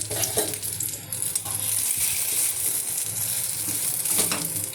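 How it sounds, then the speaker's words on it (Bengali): An egg roll frying in oil in a nonstick wok gives a continuous close sizzle, with scraping and stirring strokes rising and falling throughout. "দেখুন আমি ভাজছি"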